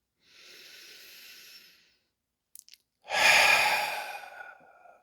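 Deep diaphragmatic breathing during a guided meditation: a soft, steady inhale lasting over a second, a brief pause, then a long, loud, breathy exhale that fades out slowly, heard alone and close.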